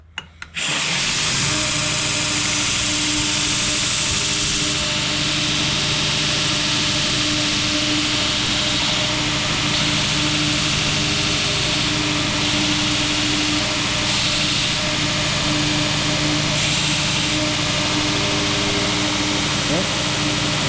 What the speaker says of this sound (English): Now this belt grinder is kind of loud, so it's going to be a little hard to talk, but John